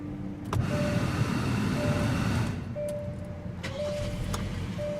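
A 2017 Hyundai Sonata SE with a 2.4-liter four-cylinder engine starting and idling, a low steady hum with a few clicks and faint electronic chimes, heard close from inside the car.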